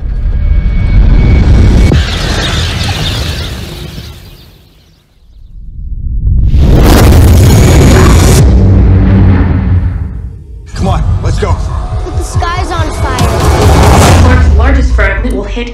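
A comet fragment explodes in a disaster film, a loud sustained boom with a roaring blast that swells, dips, then rises again into dense crackling debris and rumble, with voices talking over parts of it.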